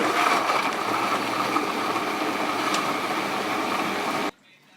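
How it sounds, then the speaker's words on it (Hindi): A mixer grinder whirs loudly and steadily as it blends tomato and onion with a little water into a paste, running for about four seconds before cutting off abruptly into near silence. "अब ऊपर से ढक्कन लगाएंगे और ग्राइंड करेंगे।"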